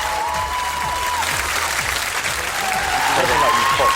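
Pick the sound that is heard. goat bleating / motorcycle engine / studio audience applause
studio audience applause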